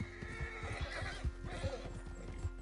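A horse in Red Dead Redemption 2 Online whinnies close by while hooves clip-clop in a steady rhythm underneath, alone and at moderate volume.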